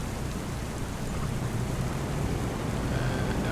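Rain in the video game Farming Simulator 25, a steady, fairly loud rain wash with low rumbling like distant thunder, continuous and without talk.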